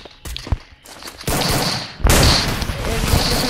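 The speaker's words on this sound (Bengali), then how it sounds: "আমি এখন উড পিকার দিয়ে একজনকে মেরে দিলাম, আবারও আরেকজনকে উড পিকার দিয়ে হেডশট।" Rapid gunfire bursts from a woodpecker rifle in a battle-royale shooting game, scoring headshots. Sharp cracks and thuds come in quick clusters, loud and close, over a dense bed of game noise.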